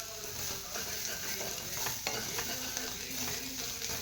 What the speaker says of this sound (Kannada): ಅರ್ಧ ಟೇಬಲ್ ಸ್ಪೂನಷ್ಟು ಮೆಣಸಿನ ಪೌಡರ್, ಒಂದೆರಡು ಮೆಣಸಿನ್ಕಾಯಿ ಸೇರಿಸ್ತಿದ್ದೀನಿ.